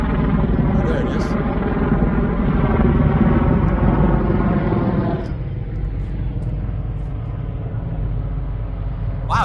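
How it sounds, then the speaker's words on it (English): A large helicopter passes overhead with a loud, steady droning engine rumble that holds strong, then drops noticeably in level partway through as it moves away. "That's a huge helicopter."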